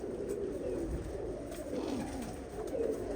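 Low pigeon cooing fills a busy, crowded bird auction, with steady murmuring background noise and soft bird calls throughout.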